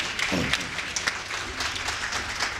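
A crowd at a Hindi comedy poetry gathering breaks into sustained applause, with dense, continuous clapping heard at a moderate distance and no clear speech.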